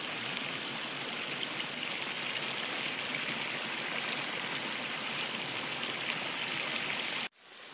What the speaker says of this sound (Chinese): 这是小溪水